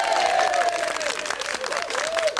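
A studio audience at a 1994 television talk show applauds and cheers for an arriving guest, a dense, steady wash of clapping filling the room throughout, with a bright tonal sound sliding underneath.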